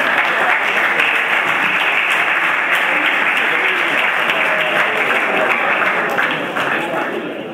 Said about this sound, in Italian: alla premiazione da Paolo Russo, un applauso